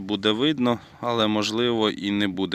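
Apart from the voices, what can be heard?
No everyday noises stand out.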